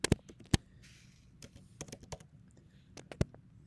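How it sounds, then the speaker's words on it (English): Computer keyboard keys typed into a terminal, irregular close clicks and taps with a few sharper strikes scattered across a few seconds in a quiet room. "I'm going to go to the terminal. And I'm going to start typing some of this stuff in."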